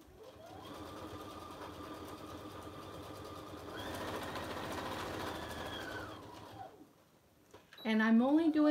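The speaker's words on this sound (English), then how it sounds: "I'm only doing my top stitch around the flap" A sewing machine runs a continuous top stitch around a messenger bag flap, a steady mechanical whir that rises slightly in pitch midway, stops near the end, and gives way to a voice.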